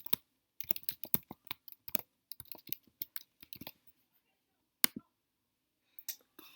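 A password being tapped into a computer keyboard, a quiet run of crisp, close clicking keystrokes in quick bursts with short pauses, then a few isolated clacks near the end.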